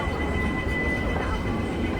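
Shuttle train moving past: a steady, loud rumbling roar of rail cars rolling by at close range, continuous with no break.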